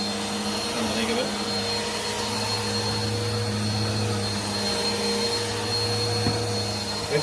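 A Bissell Powerforce Helix 2191U upright vacuum cleaner runs with a loud, steady motor whine and hum, held constant at close range throughout.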